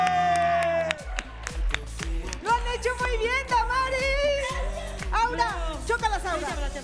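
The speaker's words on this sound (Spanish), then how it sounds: "aplauda" A studio audience on a Spanish-language dating show applauds and cheers loudly, with whoops and excited shouting voices layered over a held musical note that breaks off, all close and continuous.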